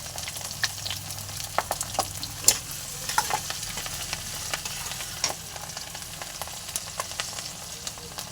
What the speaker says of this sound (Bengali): লাল লাল করে রসুনগুলো ভেজে নেবে